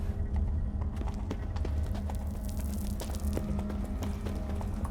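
Horse hooves clip-clopping steadily and fairly close in The Witcher 3, a continuous trotting rhythm over a low rumbling game backdrop with no talk.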